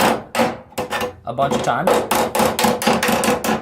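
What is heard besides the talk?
claw hammer hammering metal flat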